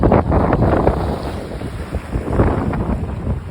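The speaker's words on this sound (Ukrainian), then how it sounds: "Так, а то море. І сьогодні і вітер такий." Strong wind buffets the microphone over a steady roar of sea waves on the coast at Bacoli, Italy, loud and continuous with gusting surges.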